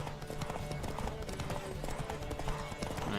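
A horse gallops with steady clip-clop hoofbeats in The Witcher 3: Wild Hunt, a continuous drumming rhythm under someone talking and layered game noise.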